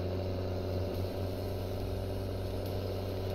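A tractor engine in Farming Simulator 17 drones steadily on a sloped field, a constant low mechanical hum with layered tonal bands, moderately loud and unbroken, with no voices.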